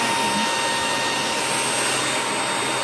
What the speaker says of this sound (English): This one has the best suction in the world. Okay? For a little stick vacuum.